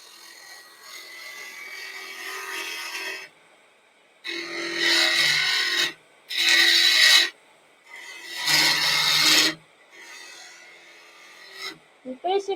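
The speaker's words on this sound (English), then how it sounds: "we want to try and remove as much as we can with it on the lathe" A spindle gouge cutting wood on a lathe, heard as four loud, raspy scraping bursts of one to two seconds each, separated by quiet pauses with a faint low hum of the lathe running underneath.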